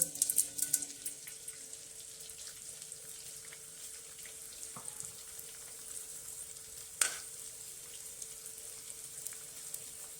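Edible gum (dink) puffing in hot fat over low heat for fenugreek ladoo, a quiet, steady fine crackle with a few small pops and one sharper tick, faint and close, no voices.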